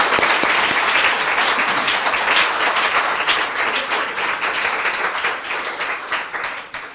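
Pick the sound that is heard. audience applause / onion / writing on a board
audience applause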